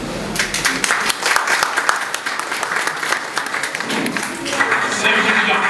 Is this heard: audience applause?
yes